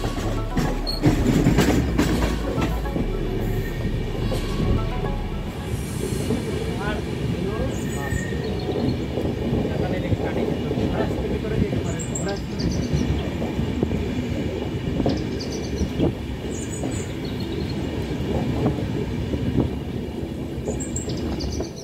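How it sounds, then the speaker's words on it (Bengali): Jagdalpur–Howrah Samleshwari Express rumbling past a standing train, continuous heavy rolling clatter of wheels on rails with occasional squeal, loud and close throughout. "এই যে জগদলপুর হাওড়া সম্বলেশ্বরী এক্সপ্রেস।"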